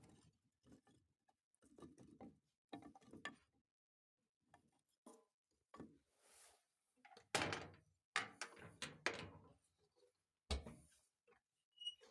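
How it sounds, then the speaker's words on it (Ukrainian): A Bizon 25 kW solid-fuel boiler, loaded with ash firewood, has its damper opened: a series of metallic clicks, scrapes and clanks in irregular bursts, close, with a louder clattering cluster near the end and no speech. "Відкриваємо заслонку."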